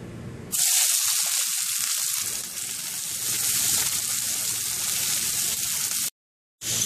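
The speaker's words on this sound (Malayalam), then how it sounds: "ആദ്യം നമുക്കൊരു പാനിൽ വെളിച്ചെണ്ണ ഒഴിച്ച് ചൂടാക്കാം വെളിച്ചെണ്ണ ചൂടായി കഴിഞ്ഞ് ഇതിലേക്ക് ഇനി സവാള ചേർക്കാം" Chopped onions sizzle in hot coconut oil in a pan, a steady, loud frying hiss that begins abruptly and continues with a brief drop-out near the end.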